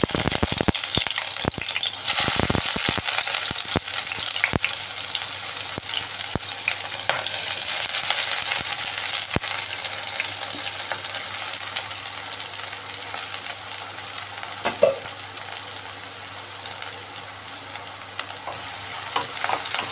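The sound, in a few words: onions frying in refined oil in a wok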